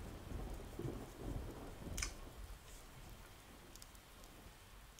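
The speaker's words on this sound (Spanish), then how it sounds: "un sonido de lluvia y relámpagos." Rain and thunder from the intro of the video game Bokura no Daibouken III: a steady patter of rain with low rumbling and a sharp crack near the middle, faint and alone.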